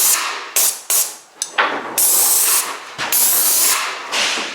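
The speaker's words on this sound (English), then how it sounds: "I'm just going to spray this bottom area here." A paint sprayer applies undercoat to a bottom area of a house wall, loud hissing bursts starting and stopping in several close, uneven blasts with short gaps between them.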